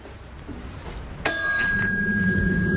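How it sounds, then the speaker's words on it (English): A hotel front-desk service bell is struck once, giving a bright, clear ding that rings on and slowly decays over low background room noise. "I was just playing with the bell."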